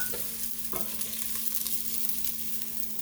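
Beef searing in a cast iron Dutch oven, a close, even sizzle with a couple of light utensil knocks early on, no voices.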